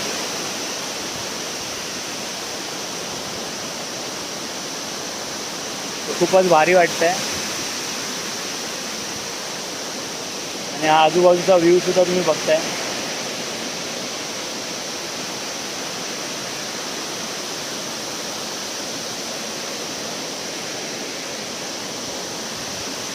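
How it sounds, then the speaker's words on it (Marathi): A steady roar of water falling from a great height at Savatkada waterfall, Rajapur, a constant hiss with a person briefly talking over it twice. "बघू शकता किती उंचावरून पाणी पडतंय"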